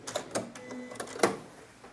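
A sewing machine runs stay stitching a quarter inch from the fabric edge, making short mechanical whirring bursts with brief pauses between them, close by and fairly quiet.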